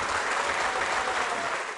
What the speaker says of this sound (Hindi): तालियां जोरों से बजनी चाहिए इन सभी के लिए।